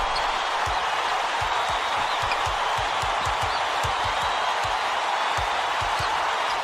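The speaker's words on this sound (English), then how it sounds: "This crowd couldn't be any happier. Just listen to the people in this building." Video game basketball crowd roaring steadily in an arena, a loud continuous cheer with sneaker squeaks and ball bounces underneath, no talk.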